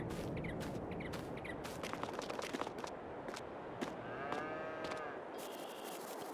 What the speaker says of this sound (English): We have 20 Holsteins in this particular facility.